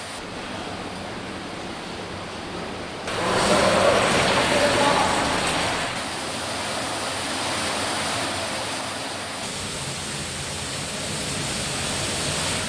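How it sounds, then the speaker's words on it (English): A roaring underground stream of rushing water in Speedwell Cavern, heard as a steady broadband rush that swells louder partway through and echoes in the cave, with a voice faintly present. "An increasing rumble of rushing water echoes from around a corner."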